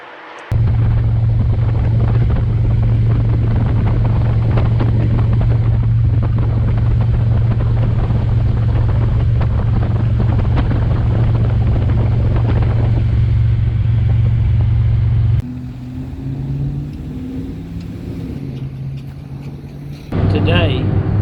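A vehicle motor runs steadily with a loud, low droning hum for most of the clip, then shifts and drops in level near the end, close and continuous with no clear talk.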